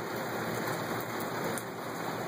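Rain falls steadily outdoors at night, a dense hiss of raindrops on surfaces, loud and unbroken, with no voices.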